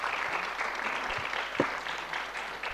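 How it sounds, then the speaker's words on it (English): Conference audience at a European education anniversary event applauding steadily, a dense wash of many hands clapping at moderate distance, with a few brief louder claps standing out. "Yes, that deserves an applause."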